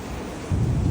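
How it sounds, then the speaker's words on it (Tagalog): Heavy rain in a thunderstorm in Taiwan, a loud steady roar of rainfall with deep rumbling low noise that swells louder halfway through, with no talking. "Sa lakas na ulan, grabe."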